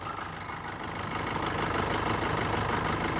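A used diesel car with 86,000 on the clock idles nearby, giving a steady, knocking rumble that grows slightly louder and stays constant, with no talk over it.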